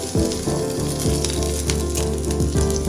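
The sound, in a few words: green chillies sizzling as they fry in oil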